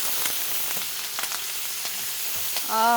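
Garlic and vegetables sizzle steadily in a hot pan, with scattered crackles and soft stirring taps. A brief tonal squeak or hum rises near the end over the close, continuous frying.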